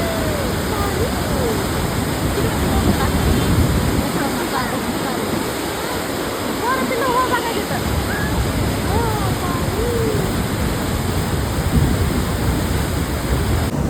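Water roars continuously out of the opened gates of Khadakwasla dam, a loud, steady broadband rush. A crowd's voices carry faintly beneath the torrent.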